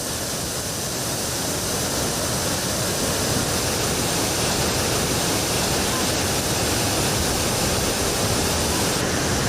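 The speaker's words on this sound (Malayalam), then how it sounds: "ഇത് ഇടുക്കി ജില്ലയിലെ വാളറ വെള്ളച്ചാട്ടത്തിന്റെ ദൃശ്യങ്ങളാണ്." Vallara waterfall in Idukki district runs in a heavy, muddy monsoon torrent, giving a loud, steady, unbroken roar of rushing water throughout.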